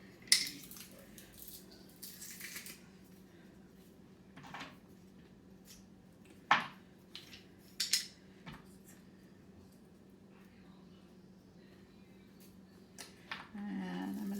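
Garlic cloves being scraped free of their papery peel on a kitchen surface while making homemade garlic butter, giving a few short, close scrapes and soft knocks spaced apart over a low steady hum.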